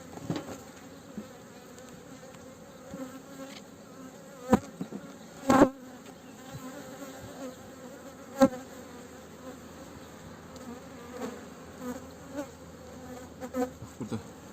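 Honeybees hum steadily at a beehive being inspected, a constant close buzz with a few louder bees passing by the microphone and occasional knocks and handling sounds, no talking.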